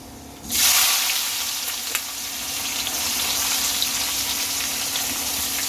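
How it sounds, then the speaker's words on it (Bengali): Chopped onions hit hot oil with whole garam masala, cardamom and cinnamon, bursting into a loud sizzle that settles into a steady, close frying hiss. "এবার পেঁয়াজগুলোকে একটু লাল লাল করে ভালোভাবে ভেজে নিতে হবে"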